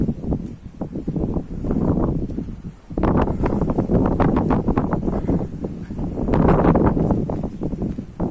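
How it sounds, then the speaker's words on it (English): Gusty wind buffets the microphone in loud, rumbling surges that rise and fall, with a brief lull partway through, on a hill in Benidorm. "It's a bit windy"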